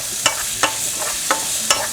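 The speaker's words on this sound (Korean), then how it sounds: "약불에 천천히 볶아주세요" Zucchini and onion sizzle softly in a pan, with a few sharp spatula scrapes roughly every half second over a low, even frying hiss.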